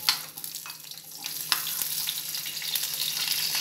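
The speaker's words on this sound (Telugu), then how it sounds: "ఆయిల్ వేడి చేసుకునేసి ఫస్ట్లో ఇందులోకి మనము ఆనియన్స్ వేసుకోవాలి" Onions fry in hot oil with a soft continuous sizzle and crackle, close but fairly quiet, with a few light scrapes near the start and the hiss swelling slightly toward the end.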